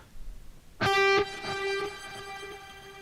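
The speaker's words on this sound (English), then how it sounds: "let us hear that one with delay and reverb" A guitar chord strikes after a moment of quiet, followed by a second strum, with delayed repeats and a long reverberant ringing tail.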